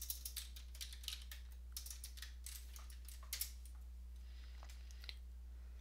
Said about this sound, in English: open a browser. And type in the URL git download.